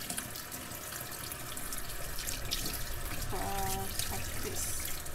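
Water runs steadily from a kitchen tap into a sink, a constant close splashing hiss, with a brief tonal clink partway through and no speech.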